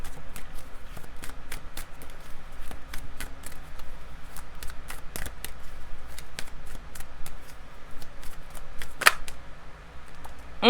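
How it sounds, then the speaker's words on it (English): Tarot cards are shuffled with rapid, crisp riffles and light slaps, a busy run of short papery clicks close by, with no voices. "As I was shuffling, I'm hearing holding back."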